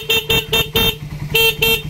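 Stock horn on a Raider 150 motorcycle sounded in a workshop in six short, loud, evenly spaced bursts, each a bright steady buzzing tone, with brief gaps of engine-idle hum between them.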